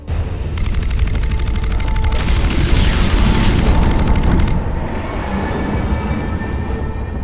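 A heavy weapon fires in the Mass Effect 3 game as a loud sustained rumble with a rapid pulsing burst of shots through the middle, set under a dense low roar.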